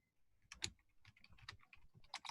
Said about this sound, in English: Are you sleep typing?